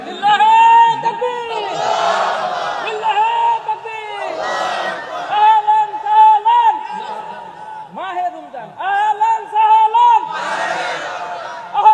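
A crowd chants takbir in unison, loud repeated call-and-response shouts of "Allahu Akbar" that swell in several bursts across the stretch, with a strong lead voice between them at a religious gathering in Cumilla.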